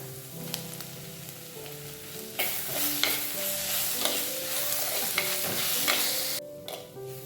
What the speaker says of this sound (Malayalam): ഇതെല്ലാം കൂടെ നന്നായി ഒന്ന് വഴറ്റിയെടുക്കണം